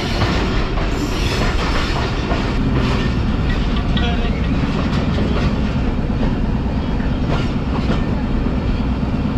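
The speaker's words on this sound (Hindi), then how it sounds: "सियालकोट एक्सप्रेस वज़ीराबाद शहर में दाखिल हो चुकी है और बहुत जल्द हम वज़ीराबाद जंक्शन पर भी पहुंच जाएंगे" The Sialkot Express runs into Wazirabad toward the junction, heard from on board as a loud, steady rumble with continuous clickety-clack of wheels over rails, sustained throughout with no pause.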